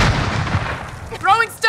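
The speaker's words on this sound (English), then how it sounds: "Grenade out! Stun grenade! Grenade is stunned!" Stun grenade detonating in the video game Call of Duty: Modern Warfare, a loud broadband blast with lingering noise, followed by a high ringing whine that pulses in tonal bursts near the end.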